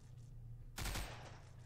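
Burst of assault-rifle fire in the zombie shooter game Swat and Zombies 2, a loud short volley of gunshots over a low hum of game background music.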